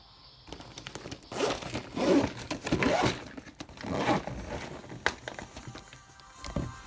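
A zipper on a bag holding a large 100-piece set of toy soldiers is pulled open in several close, scratchy bursts with brief pauses between them, followed by light rustling and a few small clicks of the contents shifting.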